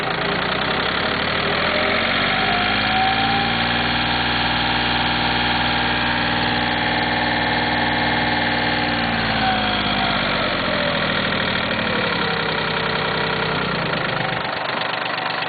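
A Cub Cadet lawn tractor engine idles steadily at close range, its low chugging drone running continuously with a slight knock and vibration, the pitch dipping and rising as the throttle shifts partway through.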